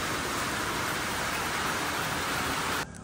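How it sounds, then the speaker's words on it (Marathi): Heavy monsoon rain pouring during a road journey through the Konkan, a loud dense hiss of downpour that drops off abruptly near the end. "नुसता धो पाऊस पडतोय."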